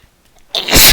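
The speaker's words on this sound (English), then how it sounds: "I suddenly had to sneeze" A single sudden, loud human sneeze bursts out after a near-silent moment, cutting off sharply at the end of a gameplay session.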